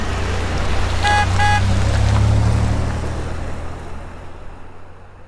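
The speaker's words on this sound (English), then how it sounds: "Blueberry Grapes and I were off to Freshwater in my extraordinary berry food truck." Cartoon berry food truck driving off, with a low engine rumble, a quick double horn toot near the start, and the motor fading away into the distance.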